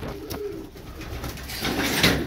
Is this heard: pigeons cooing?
yes